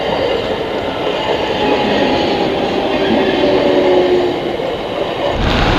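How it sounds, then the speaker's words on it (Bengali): A local train passing the Tarakeswar rail gate, a loud, steady rolling rumble and rail clatter close by for several seconds, with no voices. "আর একটা ট্রেনও যাচ্ছে, দেখো লোকাল ট্রেন।"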